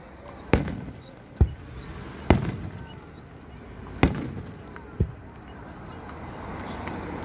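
Independence Day fireworks bursting in the open, five or six separate sharp booms spaced irregularly, loud against background crowd noise with some voices.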